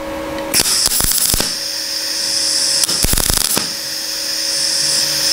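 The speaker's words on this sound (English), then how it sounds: "so now we're going to weld those up first of all" Welding on broken pieces of rusty metal gives a steady, loud buzzing hiss, broken by two clusters of sharp crackling pops.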